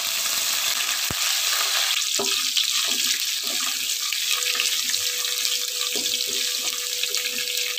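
Whole spices such as mustard seeds, cumin, cinnamon, star anise, cardamom, marathi moggu and bay leaf fry in oil over a low flame for capsicum rice, giving a steady close sizzle with a few light stirring clinks.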